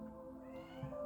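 A domestic cat gives a single short meow, close and clear, over a low indoor hum.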